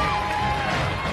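A crowd of home cooks cheers and whoops in a steady, dense wash of voices at a MasterChef finale, with no single voice standing out.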